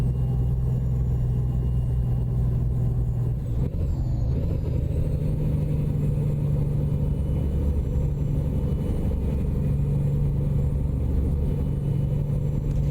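Volvo VNL 860 truck with a Cummins ISX 15 engine, 565 horsepower, driving in American Truck Simulator: a steady, loud low engine drone throughout, with a brief airy shift midway and no voices.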